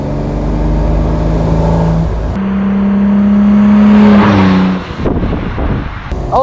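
A 1957 Lancia Aurelia B24 S convertible drives past close and loud, its engine note rising through the gears with a sharp shift break, then fading into wind and road noise.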